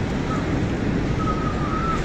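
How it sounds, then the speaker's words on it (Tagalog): Strong typhoon wind blowing through trees in Gonzaga, a continuous dense roaring rush buffeting the microphone, loud and unbroken, with no speech. "Tila nagsasayaw ang mga puno dahil sa lakas ng hangin."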